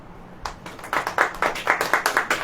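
A congregation at a church sermon breaks into hand clapping, starting with a few scattered claps and settling into a steady, rhythmic beat of roughly a dozen distinct claps. The sound is moderately close and carries no talking over it.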